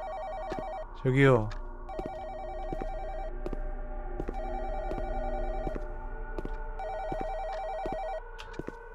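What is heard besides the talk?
landline telephone ringing in the video game Where Is Sarah?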